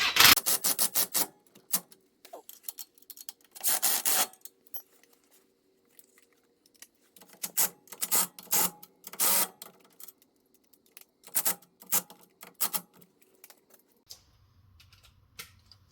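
A ratchet wrench snugs the steering damper mounting bolts on a 2000 Ford Excursion 4x4 during a front end rebuild, making bursts of rapid, close clicking separated by pauses, with no speech.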